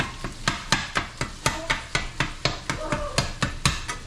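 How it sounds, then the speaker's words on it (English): A utensil chops cooked meat in a pan for a keto crustless pizza, producing a steady series of about sixteen sharp, close knocks spaced roughly a quarter second apart over a faint sizzle. "And you want to chop this fairly fine."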